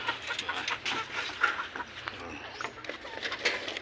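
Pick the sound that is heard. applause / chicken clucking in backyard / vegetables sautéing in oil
chicken clucking in backyard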